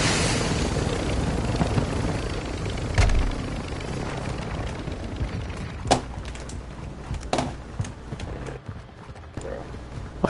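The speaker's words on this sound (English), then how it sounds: "My helicopter just fell off the fucking roof." Helicopter in a video game, a loud steady rotor-like rumble with several sharp thuds and crashes scattered through it.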